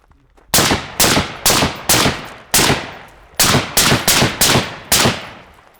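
Ten rifle shots fired at close range on a close-quarters rifle assessment course, sharp loud cracks in two quick bursts of five with brief pauses between, each with a short echoing tail.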